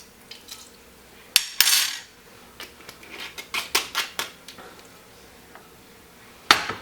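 A teaspoon of apple cider vinegar going into a cup comes with a run of close, bright metallic clinks and taps as the spoon hits the cup. Two louder strikes stand out at the start and near the end. No one speaks.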